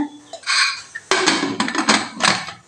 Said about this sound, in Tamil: குக்கர் மூடி போட்டு ஒரு மூணு விசில் விட்டுக்கலாங்க